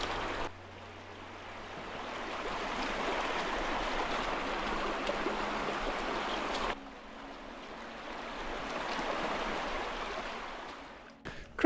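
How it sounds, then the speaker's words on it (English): A river rushes steadily beside a small bridge in the Newlands Valley of the Lake District, a broad continuous roar of flowing water with a brief break midway and faint wind, no voices. "heading for the river and the little bridge"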